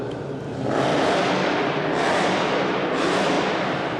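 A prototype Invicta sports car engine revs loudly nearby, rising in two or three strong surges that hold at a high roar before dropping slightly, with no voices.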